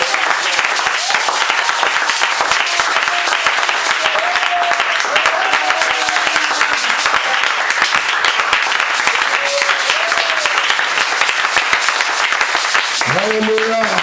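A church congregation applauds and cheers in acclaim, sustained dense clapping mixed with scattered shouts and voices over the whole stretch, with a raised voice rising out of the crowd near the end.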